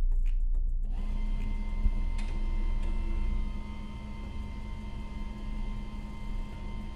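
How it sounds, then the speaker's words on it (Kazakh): A document printer-scanner powers on with a brief clatter of clicks, then settles into a steady low electrical hum with faint mechanical ticks in a quiet room. "Принтерди жандырабыз."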